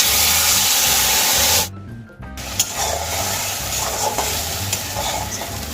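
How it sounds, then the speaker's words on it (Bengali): Mustard and green chilli paste stirred in hot oil over a low gas flame, a steady close sizzle with scraping stirs that cuts out briefly and then resumes more softly. "গ্যাসের ফ্লেম লোতে রেখে আমি সর্ষে পেস্ট একটু নাড়িয়ে চাড়িয়ে নেব"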